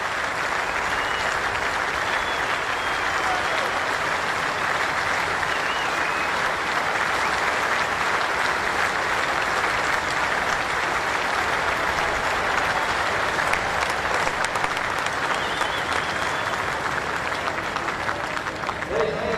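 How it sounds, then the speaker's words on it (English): A Test cricket crowd between Australia and New Zealand applauds Kane Williamson's century, sustained dense clapping that holds steady for the whole stretch, with a commentator talking over it. "Applauded by some of the Australian players as well"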